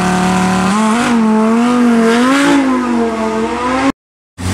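A Lamborghini sports car runs the hill course at the Goodwood Festival of Speed, its engine a loud, sustained roar that rises and falls slightly as it passes, before cutting to sudden silence.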